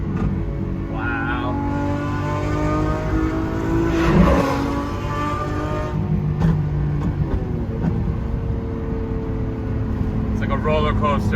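Lamborghini Aventador SVJ with a single-clutch gearbox, driving with a steady engine drone and a rising rev surge around the middle. People talk throughout inside the cabin.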